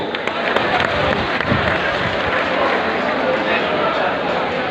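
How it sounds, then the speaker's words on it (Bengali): Audience applause at a college silver jubilee guest-welcoming ceremony, a dense, steady wash of clapping sustained across the whole stretch at fairly loud level, with voices mixed into the crowd noise. "আমরা নিশ্চয়ই আমরা একটা করতালি দিব"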